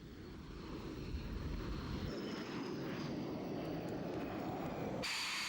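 French military combat jets from Operation Desert Storm in 1991 return from a mission, heard as a steady, loud engine roar that continues the whole time, with a sharper jet whine coming in at the end.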